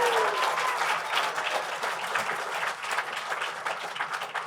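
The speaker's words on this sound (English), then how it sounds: "I just would like to give a big round of applause for them." A gala ball crowd claps in a large room, loud continuous applause that stays full throughout with a brief voice at the start.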